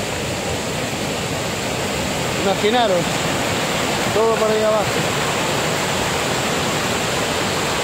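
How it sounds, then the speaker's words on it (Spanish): From the top of the Augas Caídas waterfall in Galicia, a constant broadband rush of falling water dominates, loud and near. Someone speaks briefly over it twice. "Estoy en lo alto de la cascada."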